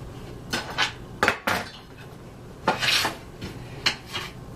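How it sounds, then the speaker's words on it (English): Fresh cilantro and basil being chopped with a knife on a cutting board, a series of irregular close taps and scraping strokes arriving in small bursts, with no voices over it. "It doesn't take long to chop up a little bit of cilantro and basil."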